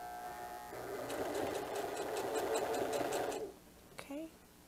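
A sewing machine runs steadily and slowly for about three seconds as it stitches through a very thick seam on a diaper bag tote, its needle strokes ticking in a regular rhythm, then it stops and a brief voice follows.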